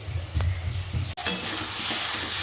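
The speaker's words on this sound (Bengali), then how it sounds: "কাঁঠালটা কিন্তু সুন্দরভাবে কষে নিয়েছি আমি।" Boiled green jackfruit being sautéed in a little oil and stirred in a pan, a steady close sizzle with soft scraping; a brief dropout midway, then the frying hiss returns brighter and fuller.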